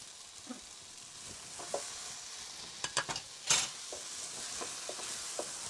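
Beef tumbling into a pan of coconut curry gives a low, steady sizzle with scattered scrapes and clacks of stirring, a small burst of louder clatter midway, all fairly quiet.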